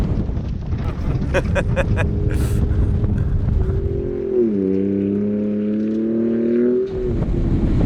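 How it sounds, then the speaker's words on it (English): A 2017 Ford Raptor truck on Nitto Trail Grappler tires drives through mud, its engine a loud, close, steady drone that rises and shifts in pitch, with wind buffeting and a few rattling bursts. "These Nitto trail grapplers kind of digging through this mud."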